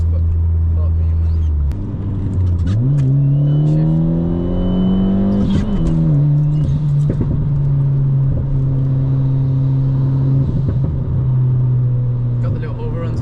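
An Alfa Romeo MiTo with a stage 1 tune rumbles from inside the cabin on a back road, climbing through a strong rev and then settling to a steady drone with light crackles and pops, while occupants talk over it.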